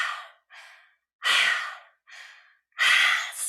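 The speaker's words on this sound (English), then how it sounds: "Strong, heavy breath." Strong, heavy breaths during a kundalini yoga metabolism exercise: five forceful breaths, loud and close, alternating shorter and longer ones with brief silent gaps between them, and no talking.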